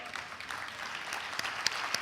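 A conference audience applauds sponsors and partners at an opening session, a dense wash of steady clapping with a few sharper nearby claps toward the end.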